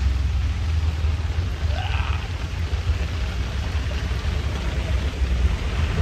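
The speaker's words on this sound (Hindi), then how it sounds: "बारिश ही नहीं रुक रही" Rain falling outdoors on the way to a cricket stadium, a steady, dense hiss that holds evenly from start to finish with no voices.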